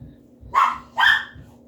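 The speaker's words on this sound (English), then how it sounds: "I've got the gate, and then they just kind of bark at me" Dogs behind a gate give two sharp barks about half a second apart, moderately loud and slightly distant, over a faint steady hum.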